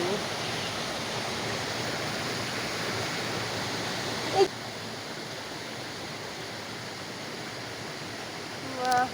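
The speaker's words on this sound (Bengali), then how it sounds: "জলের স্রোতের আওয়াজটা একটু শুনে।" Steady broadband rush of a stream's current flowing over rocky potholes, continuous and fairly loud, with a brief bump midway and a faint voice-like sound at the very end.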